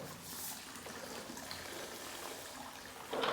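Water trickles and pours steadily from a Kentucky mop as it is wrung out firmly, quiet and continuous, swelling briefly into a louder splash at the end.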